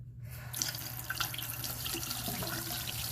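A hot-water tap on a household supply line is turned on, and after a brief near-silent moment a steady, close rush of running water gushes out and continues evenly to the end.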